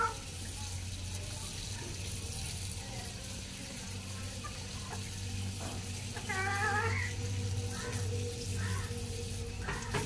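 New potatoes being washed under running tap water, with a continuous hiss and splash of the faucet, faint rubbing and handling sounds and some chirpy background noise, fairly quiet and steady, with a voice heard briefly.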